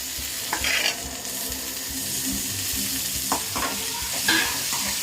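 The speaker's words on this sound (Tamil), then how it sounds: "இப்போ வந்து தக்காளி சேர்த்துப்போம்" Tomatoes sautéing in a pan with curry leaves for a dried fish thokku sambar. A steady close sizzle runs under repeated stirring scrapes, with no talking.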